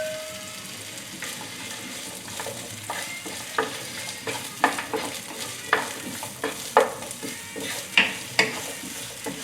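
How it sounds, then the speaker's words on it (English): Onion and Taiwanese sausage fry in a pan, with a constant sizzle and repeated sharp scrapes and clacks of stirring growing stronger and more rhythmic. "we want to caramelize the onion, and we want to have this beautiful Taiwanese sausage run them down the fat"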